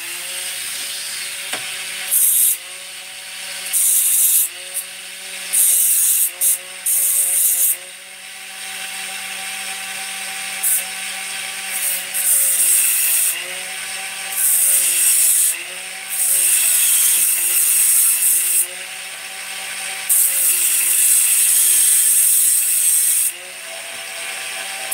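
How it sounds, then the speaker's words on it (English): A threaded insert being machined in a workshop for a 394 crankcase, heard as a loud, steady tool whine with harmonic tones that stops and starts in repeated bursts, close up, with no speech. "So I'm literally making a threaded insert."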